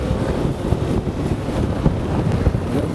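Strong wind buffeting the microphone on a boat trip during the windy season, a loud, continuous low roar with gusty surges and no clear talk.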